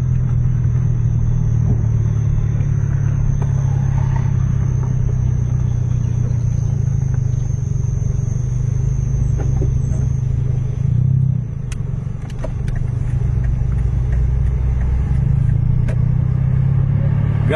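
Mercedes-Benz 1836 sleeper bus accelerating at full throttle, a loud heavy diesel engine roar with deep low rumble sustained throughout, a brief dip midway as it shifts before pulling hard again, heard from inside the cabin.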